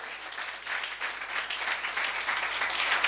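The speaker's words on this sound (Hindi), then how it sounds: "जोरदार तालियां" A church congregation applauds during a sermon: sustained, dense clapping from many people that swells slightly toward the end, with no voices over it.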